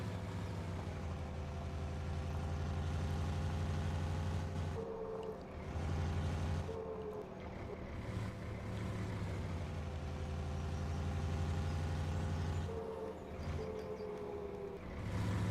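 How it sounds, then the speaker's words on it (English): A truck on a quiet English country road with an oak bridge, its engine droning low and steady as it passes, with brief squealing tones that suggest brakes rubbing or a retarder engaging. "Sound like the brakes are rubbing, don't it? That might be the retarder on there. Or the Jake brake."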